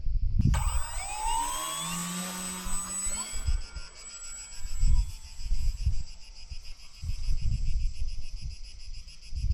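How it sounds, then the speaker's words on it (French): A small E-Flite Conscendo Evolution 1.5 electric model airplane's motor whines and sweeps in pitch, then settles into a steady buzzing drone, with gusty outdoor rumble throughout. "L'avion est en train de voler un peu par ici."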